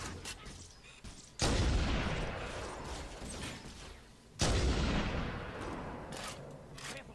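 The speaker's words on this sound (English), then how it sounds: "did they just chuck a grenade at themselves and die?" Two heavy explosions from grenades in Halo: Combat Evolved burst a few seconds apart, each a loud sudden blast trailing into a long rumbling decay, with faint mechanical clatter between them.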